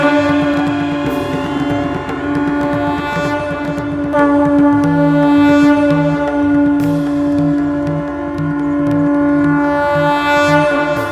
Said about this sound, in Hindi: सहस्रों बड़ी बड़ी भेरियों तथा गोदुग्ध के समान श्वेत शंखों को बजाया